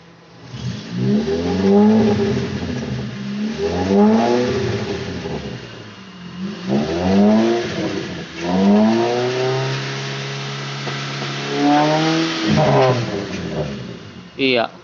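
A 1990 Nissan Sentra with a racing exhaust revs repeatedly, each loud throttle blip rising and falling in pitch, with a longer sustained rev near the end.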